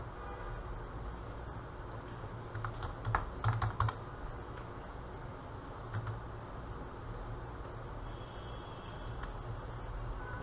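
Keys clatter on a computer keyboard as a room name is typed into architecture software, quiet taps in loose bursts over a low background hum, busiest in the middle.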